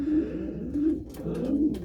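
Pigeons in a breeding loft give low, rolling coos, three repeated phrases close by over a soft background hum.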